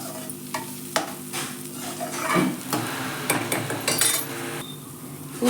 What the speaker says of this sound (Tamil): அடுத்து தேங்காவை சேர்த்திக்கலாங்க. இதையும் லைட்டாக வதக்கிக்கலாம்.